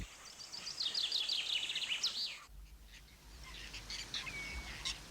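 Swallows twittering along the Aegean shores of northern Greece, a busy stream of close, chirping calls for the first half, then sparser faint calls over a low rumble.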